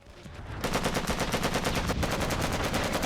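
Two AK rifles fire together in the Made Man video game, a loud, dense stream of rapid automatic shots that starts after a brief lead-in and keeps going steadily to the end, with no talking.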